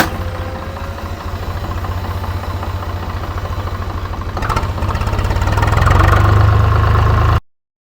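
A Swaraj 735 tractor engine idles close by with a loud, steady diesel knock, rising slightly in intensity toward the end before cutting off abruptly.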